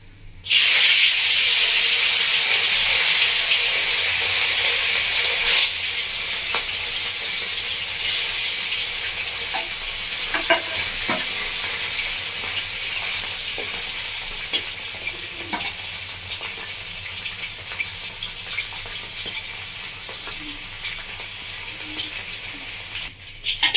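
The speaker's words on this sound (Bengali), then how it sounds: "তো বাকি মাছগুলো আমি এভাবেই ভেজে নেব।" Fish pieces sizzle steadily in hot oil in a Bengali village kitchen, a loud, continuous bright hiss that eases slightly after a few seconds, with occasional spatters and utensil taps.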